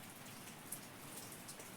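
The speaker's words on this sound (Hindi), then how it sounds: "बारिश लगी है" Rain falls in the mountains as a faint, even hiss of drops on surfaces, with a few slightly sharper drop hits standing out and no voices.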